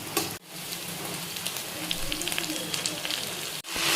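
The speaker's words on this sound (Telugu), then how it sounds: "ఉల్లిపాయలు దోరగా వేగాక ఇలా కొత్తిమీరను కూడా వేసి వేయించుకోవాలి" Chopped coriander leaves frying with onions and garlic in a pan give a steady, close sizzle and crackle, broken by brief cuts near the start and end, with no voices.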